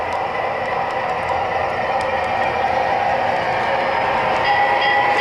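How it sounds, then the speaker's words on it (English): Steady rumbling of a small MTH model train in Norfolk Southern livery running continuously, with faint repeated metallic dings of its bell above the constant mechanical whir. "There's the nice bell. It's really realistic."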